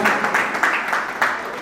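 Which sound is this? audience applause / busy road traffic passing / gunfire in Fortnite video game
audience applause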